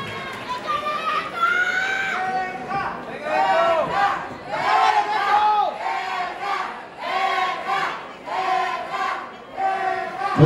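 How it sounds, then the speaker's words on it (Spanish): Crowd at a bachata dance battle in Mexico cheers and shouts in loud waves, many voices whooping and yelling together over a background of clapping, close and energetic, with no clear talk. "Fuerte el aplauso para Benja Martínez y Jesús Greco."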